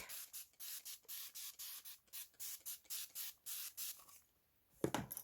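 A series of short, hissing spray bursts onto the back of fabric in a steady rhythm, about a dozen in a row, followed by a brief pause and a soft thud.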